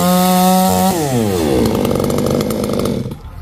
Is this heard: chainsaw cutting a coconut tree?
yes